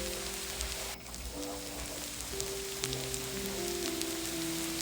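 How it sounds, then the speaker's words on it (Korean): Gochujang sauce thinned with pear juice and plum extract bubbling in a pan while being stirred, a dense crackling sizzle and pop running steadily throughout, close and even. "계속 저어가며 끓여주세요"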